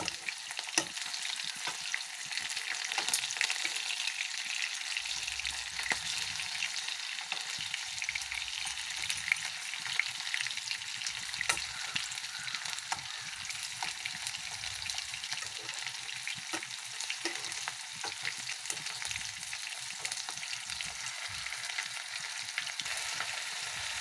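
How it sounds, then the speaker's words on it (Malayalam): Tender jackfruit pieces shallow frying in a pan, a steady bright sizzle throughout with occasional soft stirring and scraping sounds, no voices. "ചെറുതായിട്ടൊന്ന് ഫ്രൈ ചെയ്ത്, ഒരു ഷാലോ ഫ്രൈ ചെയ്ത് എടുക്കുക"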